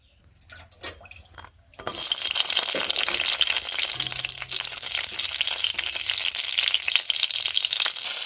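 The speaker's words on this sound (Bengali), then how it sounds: "তেল গরম হলে এখানে দুটো কাঁচা লঙ্কা ফোড়ন দেবো" Two green chillies drop into hot oil in a wok after a few soft knocks, setting off a sudden loud, close, crackling sizzle that holds steady.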